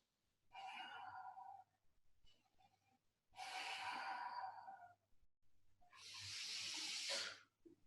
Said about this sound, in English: when you breathe, I want you to breathe through your nose